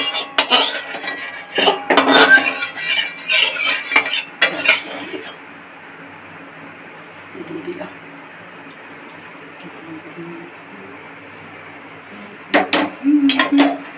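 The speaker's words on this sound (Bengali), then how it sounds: "আমি কড়াইটা ধুয়ে একটু জল দেবো" A kadai is clattered and scrubbed, with metallic clinks and scraping of utensils in a home kitchen while cooking chhanar dalna, then a long quieter stretch before more clanking returns at the end.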